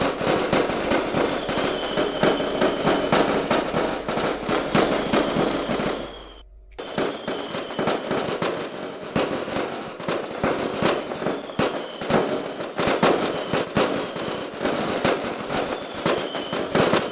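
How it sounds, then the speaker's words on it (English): Dense, continuous video-game fireworks crackle and boom, rapid bursts layered over each other, loud and sustained, with a brief dip in the middle before the barrage resumes. "Oh, I hear them. Oh! Fireworks!"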